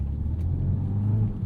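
A 2025 Mini Cooper JCW turbo hot hatch rolls along at low speed, its engine a low, steady rumble heard from inside the cabin.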